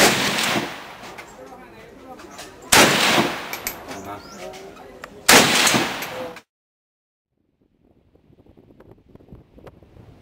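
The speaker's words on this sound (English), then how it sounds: "I also had a go with an AK-47, quite possibly the most widely used and popular weapon in the world" AK-47 rifle fired at a shooting range in Vietnam: three loud, close single shots spaced a few seconds apart, each with a long ringing decay over wind noise, then near silence with faint background sounds.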